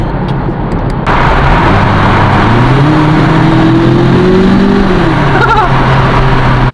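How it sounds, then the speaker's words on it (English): An Audi TT engine revs up through a steady climb, holds briefly, then drops back, loud and close inside the car after a short quiet start. "Should we see how the TT sounds like?"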